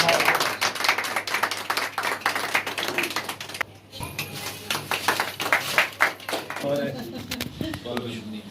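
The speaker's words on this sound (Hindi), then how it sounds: "ताली बजाए भाई" A small group claps at a community gathering, with close, uneven claps and taps over lively talk. A brief drop near the middle breaks the sound before the clapping and chatter resume.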